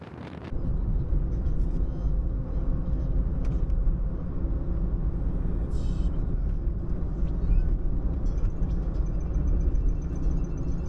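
Road noise from a vehicle driving along a highway in the Colorado mountains out of Silverthorne, a steady low rumble filling the whole stretch with no talk.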